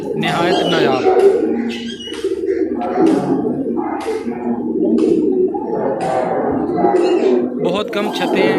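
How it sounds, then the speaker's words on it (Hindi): Green pigeons coo softly from close by on a rooftop loft, with repeated low cooing calls mixed in among people talking throughout. "हरे कबूतर इनको कहते हैं।"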